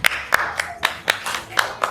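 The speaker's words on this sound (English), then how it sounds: "please clap for yourself." Parents at a celebration workshop clap for themselves in a steady, evenly spaced rhythm, about eight sharp, close claps over two seconds.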